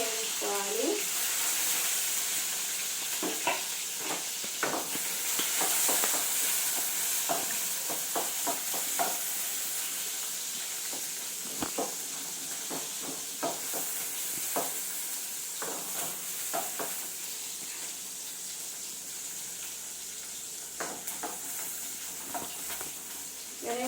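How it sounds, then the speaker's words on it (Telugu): Onions frying in a pan for a potato and peas curry, a steady low sizzle with scattered stirring clicks and utensil taps throughout. "ఇప్పుడు ఎర్రగడ్డలు వేసుకొని ఎర్రగడ్డలను బాగా వేయించుకోవాలి."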